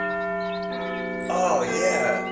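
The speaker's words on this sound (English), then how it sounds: "Let me just press the doorbell here." Doorbell pressed at a house door, a sustained electronic chime with steady ringing tones, then a brighter second tone layered on top, close and clear, with no talking.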